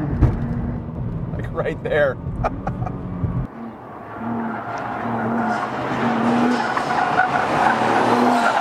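A 2014 Nissan GT-R Track Pack rumbles over the rough patches of a race track, with a few sharp thuds and rattles over a steady engine drone that rises into loud road and engine roar, while someone talks over it.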